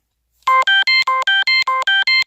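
A phone ringtone sounds loud and near in nine quick, evenly spaced electronic beeps with bright harmonic tones, alone with no talking.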